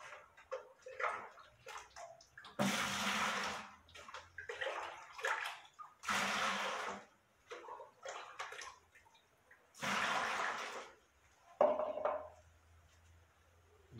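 Water poured from a small measuring pot into a container to mix gypsum plaster for exterior plaster panels, heard as several separate splashing pours with short gaps, close by and fairly loud, with clinks of the container between.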